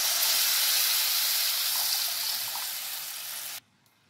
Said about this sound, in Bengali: এবার আমি জলটা দিয়ে দিলাম।